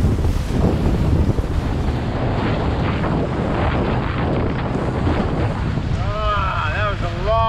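Strong coastal wind in northern Australia buffets the microphone with a loud, gusty roar throughout, and faint chirping calls appear near the end.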